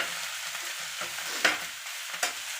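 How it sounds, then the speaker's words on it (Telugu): Lentils fry in a pan with a continuous crisp sizzle and a couple of sharper crackles or stirring scrapes, close up, over soft background music. "చూడండి బాగా వేగాలండి"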